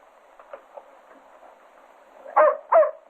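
A dog barks twice, loud and close together near the end, after a few faint yips and whimpers in an otherwise quiet 1930s film scene.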